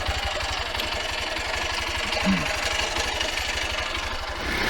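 A motorcycle engine idling close by with a steady, fast low-pitched thumping pulse and mechanical clatter throughout, loud and continuous with no talk.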